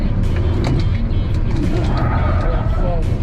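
Car engine pushed hard into a corner at overspeed while the electronic stability system cuts power, a continuous loud engine and road roar throughout with mechanical noise on top.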